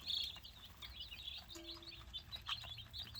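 Young meat chicks under heat lamps peep constantly in a soft, high-pitched chorus of overlapping chirps, fairly faint and close, with light pattering movement.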